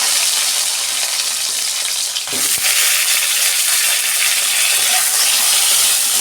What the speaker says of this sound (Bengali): এই যে সব মাছ আমার ভাজা হয়ে গেছে, ওই তেলেতে আমি বেগুনগুলো ভেজে নিচ্ছি।